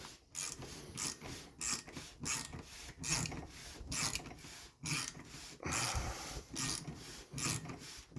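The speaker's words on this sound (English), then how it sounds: "we're just going to run this ratchet down" Ratchet being cranked by hand on a Ford F150 sunroof motor to run the sunshade closed, giving about a dozen repeated bursts of clicking pawl and rasping gear noise in steady strokes, close up with no talking.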